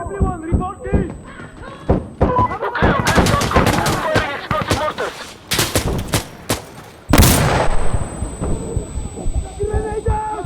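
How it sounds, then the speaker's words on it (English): Gunfire and heavy blasts fill a firefight in the video game Insurgency: Sandstorm, with bursts of shots and several loud booming impacts in quick succession, while players shout over the combat. "Go for explosive mortar!"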